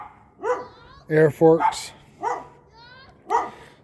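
Several dogs bark and yip nearby in short bursts, with someone talking between and over the barking.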